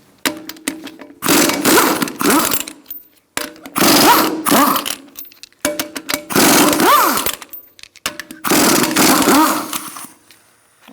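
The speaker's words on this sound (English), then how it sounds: "Using a 19mm socket, we're going to remove our wheel." Bursts of a power impact tool with a 19mm socket spinning off the lug nuts on a 2002-2006 Honda CR-V front wheel, four loud whirring runs of about two seconds each separated by short pauses.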